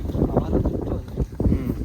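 Wind gusts outdoors, buffeting the microphone in a loud, low rumbling roar that swells and dips unevenly throughout, with no voices.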